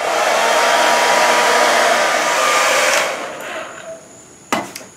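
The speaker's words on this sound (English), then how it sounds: "You'll see that my hairdryer has a tapered diffuser on the end." A hair dryer fitted with a tapered diffuser blows steadily and loudly for about three seconds, used to heat and shape a Harmany muzzle, then cuts off and winds down, leaving a faint hum, followed by two sharp knocks near the end.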